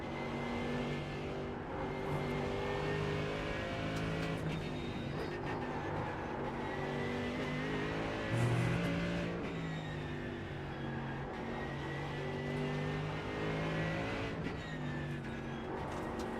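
A Mercedes GT3 race car in a racing video game on the Nordschleife, its engine droning and revving steadily at moderate volume through a long, continuous stretch without any talk.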